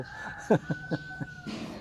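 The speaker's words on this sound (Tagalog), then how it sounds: "Ang ingay naman itong mga manok na ito." Several short clucking bursts from chickens on a coconut farm, irregularly spaced over a steady hum, fairly close, with a louder scratchy sound at the end.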